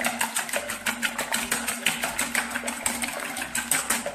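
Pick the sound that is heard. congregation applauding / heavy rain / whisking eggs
whisking eggs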